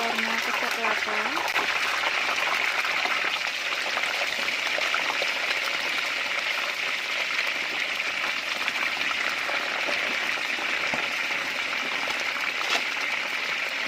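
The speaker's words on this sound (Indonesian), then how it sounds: "Masukkan ayamnya, goreng sampai berwarna kecoklatan." Steady crackling sizzle of chicken frying in hot oil, continuous and fairly close, with no voices.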